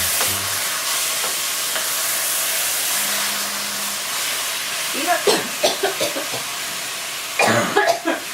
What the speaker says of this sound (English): just leave it and then time to time stir it until it's cooked